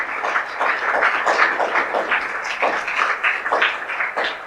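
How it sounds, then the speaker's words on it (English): An audience at a summer camp valedictory function gives a round of applause, a steady, moderately loud patter of many hands that continues throughout. "So let us give them big rounds of applause."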